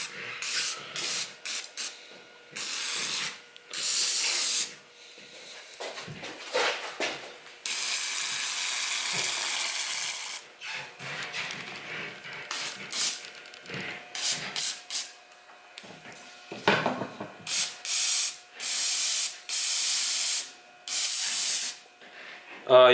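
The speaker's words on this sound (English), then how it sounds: "we got some good old red brake clean right here. We're going to go ahead and give it some squirts." Red brake cleaner sprays in repeated bursts onto a VQ35DE throttle body, with some short squirts and a few long hissing blasts, loud and close, separated by brief pauses and faint clicks.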